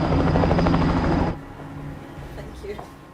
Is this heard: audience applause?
no